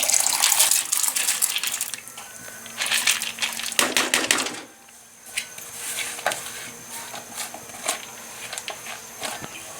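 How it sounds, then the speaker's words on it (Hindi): Soaked moong dal tipped into a kadhai of boiling water on the stove, a loud pattering, splashing pour in bursts over the first few seconds, then softer intermittent bubbling and clatter. "अब हम इसमें दाल शामिल कर लेंगे।"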